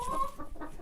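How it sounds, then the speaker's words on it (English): Chickens in a backyard coop clucking in short, close bursts, several birds overlapping with a steady mid-pitched cackle throughout. "Welcome to the chicken coop. These are my chickens."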